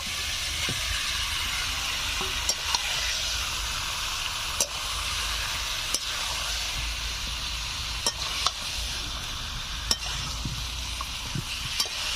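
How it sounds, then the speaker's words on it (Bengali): Chicken, spices and fried potatoes being stir-fried in a pan for a chicken curry, giving a steady soft sizzle with occasional sharp clicks of a spatula against the metal. "এখন ভেজে রাখা আলুগুলো দিয়ে মাংস, মশলা, আলু সবকিছু আরো কিছু সময় ধরে কষে নেব।"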